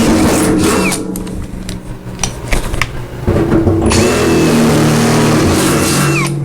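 A battery-powered drill with a low battery bores holes, whining loud and close in two long runs split by a brief, choppy pause with clicks, the motor pitch wavering as it strains.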